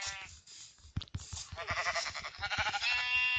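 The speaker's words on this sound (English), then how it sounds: "We have some sheep here." Sheep in the video game Minecraft bleat several times in quick succession, each call wavering and nasal, fairly close and alone, with brief soft thumps between the cries.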